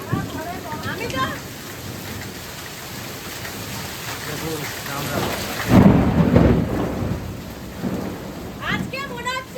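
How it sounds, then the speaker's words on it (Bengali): Heavy rain pouring steadily during a severe thunderstorm with hail, with a loud roll of thunder midway, and people talking close by throughout. "দেখ আজকে যেমন বিদ্যুৎ চমকাচ্ছে তেমনি কিন্তু মেঘ বর্ষণ দিচ্ছে"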